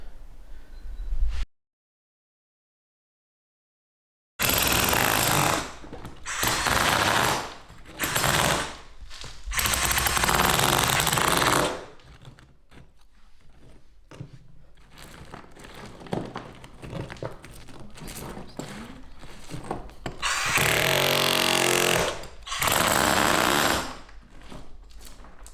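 A power sander grinds across a 100-year-old pine plank floor in loud bursts, starting and stopping repeatedly, with quieter pauses between runs.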